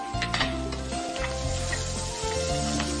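Ginger, garlic and scallions stir-fry in a hot wok for a chicken giblet dish, giving a steady, close, loud sizzle with a continuous crackle throughout and no talking.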